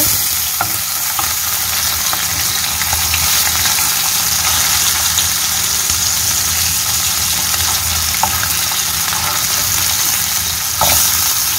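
Fish fries loudly in hot oil in a pan and is turned over, giving a dense, constant sizzle with a few faint clinks from the utensil.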